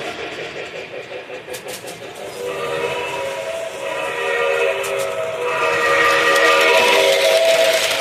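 A model train circles a run-by lap, its steady rolling clatter building louder as it nears, with a short whistle toot near the start and a hum that swells toward the end.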